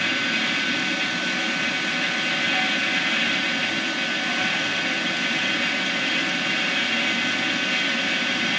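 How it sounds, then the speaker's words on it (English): A vacuum pump runs at a constant loud, steady hum and hiss during a compressor change on an Atosa two-door refrigeration unit, unchanging throughout with no pauses. "That's a little test of the vacuum pump."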